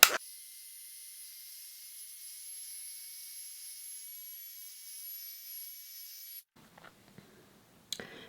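A handheld dryer blows over a watercolour art journal page, a steady close whirring hiss with a high whine that runs for about six seconds and then cuts off, leaving faint handling clicks.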